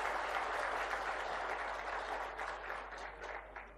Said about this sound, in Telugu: పెద్ద ఎత్తున చప్పట్లతో వారిని అభినందించాల్సిన